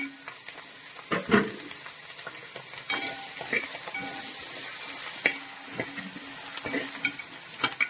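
Chopped garlic and ginger sauté in a pan of hot oil for fish pickle, a steady bright sizzle broken by occasional scrapes and knocks of a stirring spoon.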